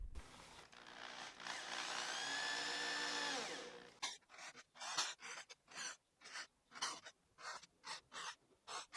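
An electric drill with a 1.5 millimeter bit whines steadily for a few seconds, pitch shifting as it bites, followed by a series of short rhythmic bursts boring about 1 centimeter into wood scrap, close and alone.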